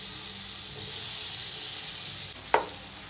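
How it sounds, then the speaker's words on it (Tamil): Bananas sauté in homemade ghee in a pan, a steady soft sizzle broken once by a sharp utensil clink. "அடுத்ததான் நம்ம வந்து இதில் வாழைப்பழத்தை சேர்த்து நல்லா வணக்கிக்கலாம்"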